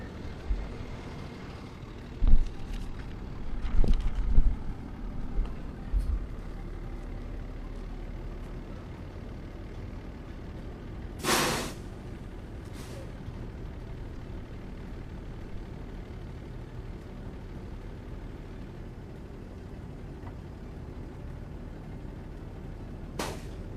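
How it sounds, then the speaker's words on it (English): A debris collection truck picks up green vegetative yard waste and storm debris in Orange County, then moves off: a steady low engine drone, a burst of clattering thumps early on, one sharp hissing burst midway, and no talking. "trucks that will come in and pick up the debris, the green vegetative debris in this process, and then it will move off"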